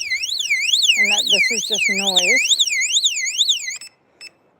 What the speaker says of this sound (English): even if I have all these funky alarms set up